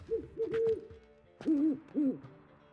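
An owl hooting in the Witcher 3 video game, two pairs of clear, close tonal hoots separated by a short pause, with nothing else heard.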